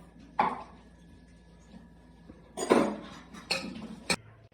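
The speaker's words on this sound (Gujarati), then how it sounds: "આ છે બટેકા દાબવાનું." Boiled potatoes mashed for vada pav with a metal masher in a pot, giving a few separate close clanks and scrapes of metal on metal between quiet pauses.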